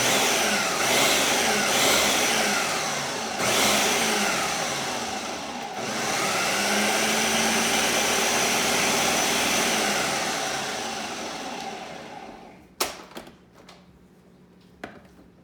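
A blender runs steadily on spices and a flax mixture, a loud continuous whirring motor that drops off near the end, followed by a few sharp knocks and clatters.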